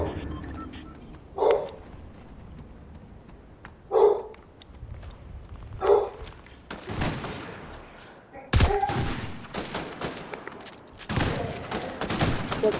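Gunfire in the video game Fortnite, starting as a few spaced distant shots and then breaking into dense, loud rapid fire and bursts in the second half. Speech is tagged, but no words are spoken.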